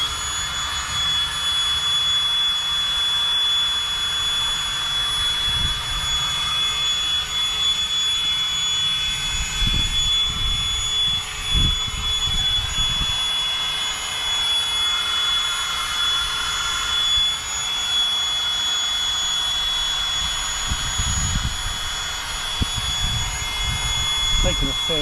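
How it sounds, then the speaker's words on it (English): A Flextail Gear electric air pump inflates a camping mat with a continuous, loud, even whirring drone lasting the whole time, and a voice talks faintly under it. "I'm using the Flextail Gear air pump."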